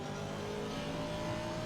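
A racing car engine in Assetto Corsa Competizione, sitting in the pits at Suzuka, drones steadily at a low idle, a continuous rumbling hum with no revving peaks.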